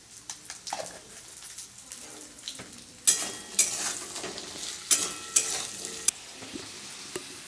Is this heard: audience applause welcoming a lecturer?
no